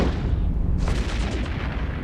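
Barrage ammunition firing during a PvP fight in the EVE Echoes space game, a loud rumbling burst of booming shots that swells in partway through and rolls on steadily to the end.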